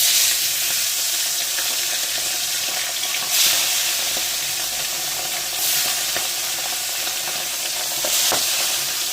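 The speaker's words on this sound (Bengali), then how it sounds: "তেলটা গরম হয়ে গেছে, এবার আমি মাছটা দিলাম।" Tangra fish fry in hot oil in a wok, sizzling loudly and continuously, a bright crackling hiss with occasional sharper pops and spatters, no voices.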